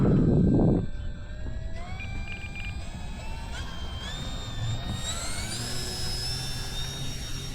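Eflite Turbo Timber Evolution RC plane flying, a whining electric motor rising steadily in pitch as it powers up and takes off, loud and near, with a brief rumble at the start and no talking.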